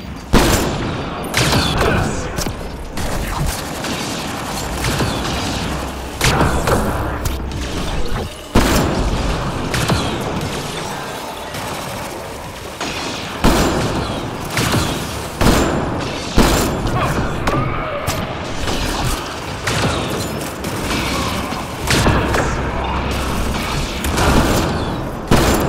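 Turret gunfire in the video game Mass Effect: Andromeda, bursts of rapid shots and heavy thuds that repeat through the stretch with short pauses between volleys, loud and close, with mechanical clatter in the gaps.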